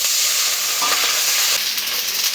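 Onion and ground spices fry in oil in a pan, a loud continuous close-up hiss and crackle with no pauses.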